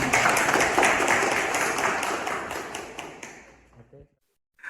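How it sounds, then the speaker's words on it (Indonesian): Applause in a university classroom during a teaching session: many hands clapping in a dense burst that slowly fades over a few seconds, ending in near silence with a couple of faint knocks. "Tepuk tangan."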